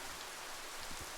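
Steady, dense rain falling in the video game Biomutant, a continuous hiss of drops on surfaces with no voices, filling a short stretch at an even level.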